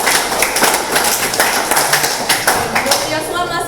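Audience applause for a student debater at a high-school debate between SMA Methodist 2 and SMA Maitreyawira, a steady burst of many hands clapping through the whole stretch, fairly loud and close, with faint talk underneath.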